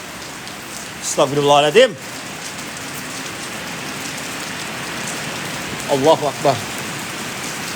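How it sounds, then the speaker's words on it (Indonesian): Heavy rain pours steadily over an Indonesian public cemetery, an even, dense hiss throughout, with a man's brief exclamations breaking in twice. "hujannya makin gede"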